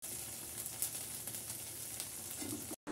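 Ginger garlic paste frying with onions and salt in a pan, a steady close sizzle running throughout with a brief gap near the end.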